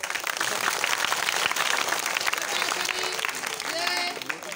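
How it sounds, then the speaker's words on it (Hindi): An audience at a magic show claps, a dense steady burst of applause close by with a voice talking over it. "अब तालियां"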